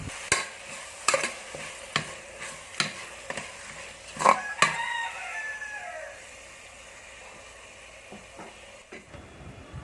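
Beef masala mixture being stirred and fried in a pan for a Kerala-style beef dish: a steady sizzle with a series of sharp spoon scrapes and knocks in the first half, then a softer, continuous frying hiss.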